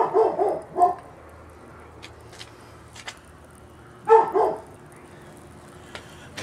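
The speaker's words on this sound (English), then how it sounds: "I got two dogs. One barks, the other doesn't. This one barks at everything." A dog that barks at everything gives two short bursts of barking at the start and another pair about four seconds later, heard outdoors beside a small pocket-sized camp stove, with quiet pauses between the barks.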